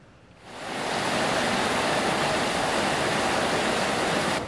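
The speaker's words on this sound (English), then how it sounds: "It's horribly raining right now." Heavy rain pours down as a dense, roaring hiss that swells in quickly after a quiet moment and then holds loud and steady to the end, with no voices.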